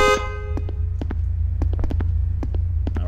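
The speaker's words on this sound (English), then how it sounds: "Now the car's gonna honk." A car horn honks briefly at the start in the video game Harrow, set on a dark city block, then gives way to a low throbbing hum with scattered soft clicks and thuds.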